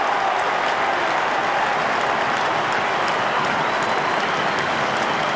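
A football crowd at the MCG during an AFL match roars and claps in a steady, loud, dense wall of cheering that holds without a break.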